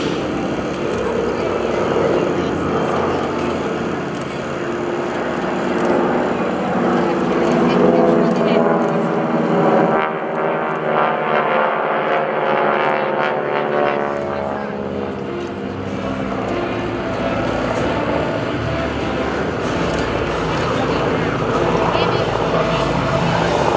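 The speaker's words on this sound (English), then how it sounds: "Caveman Flight will roll in for a very unique high-angle strafe." A military aircraft in Caveman Flight roars through a high-angle spiral strafing run at the JB McGuire-Dix-Lakehurst airshow, a steady engine drone swelling and fading over the crowd while an announcer talks throughout.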